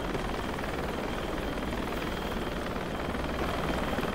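In a video game, a helicopter flies with a steady, loud rotor and engine drone that fills the scene evenly from start to finish, with no talk over it.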